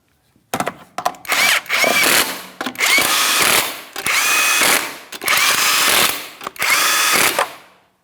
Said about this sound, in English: Once you have all 5 lug nuts on there, we're going to bottom them out in a crisscross manner